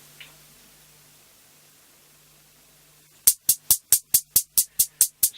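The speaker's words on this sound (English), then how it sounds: "So what you hear is a hi-hat" A drum-track hi-hat from a Korg Kross 2 step sequencer ticks in a steady, crisp run of about ten even hits, following a quiet, near-silent stretch with only a faint hum.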